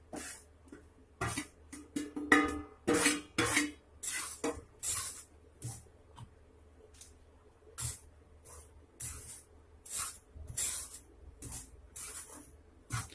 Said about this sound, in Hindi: आप कढ़ाई में या किसी बड़े बर्तन में ही इसको अच्छे से मिक्स कर लीजिए